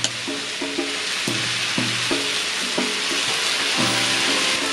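Noodles and vegetables stir-frying in a hot pan, a steady loud sizzle running throughout with repeated scraping and clattering strokes of a utensil against the metal, no talking.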